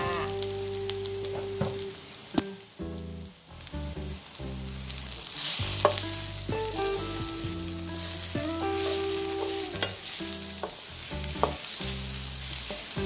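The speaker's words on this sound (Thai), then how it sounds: "ผัดให้เข้ากันนะคะ รอให้เห็ดสุก" Mushrooms are stir-fried in a pan for a mushroom and egg galette, with a soft sizzle and occasional scraping stirs. The cooking sounds sit quietly beneath prominent background music, with no talk.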